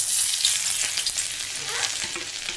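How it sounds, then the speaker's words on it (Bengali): Chopped ginger and garlic drop into hot oil for dry chicken, giving a loud, close, bright sizzle that crackles steadily throughout, with no voices. "এইবারে আমি দিয়ে দেবো এর মধ্যে হচ্ছে এই কুচিয়ে রাখা আদা কুচি আর রসুন কুচিটা দিয়ে দেবো।"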